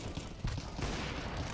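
Gunfire in Counter-Strike 2 crackles in a rapid, dense burst, fairly faint and muffled, with a heavier thump partway through.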